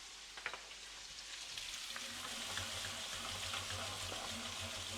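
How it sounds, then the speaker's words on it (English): Pork chops sizzling in butter in a single pan for an Italian dish with sweet peppers and onions, frying steadily with a bright crackle while being basted, with faint scraping and a low hum underneath. "Let's just put in a little bit of butter here, a few knobs of butter, just scattered around. And we're just going to give them a quick baste."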